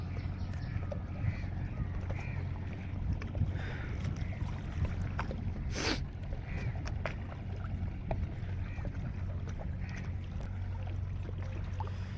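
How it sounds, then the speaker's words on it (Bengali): A boat moves on a fog-covered river near a sand-carrying cargo vessel, with a steady, loud, low engine drone throughout and a brief sharp burst partway through. "সামনের দিক থেকে আরেকটা বোট আসতেছে"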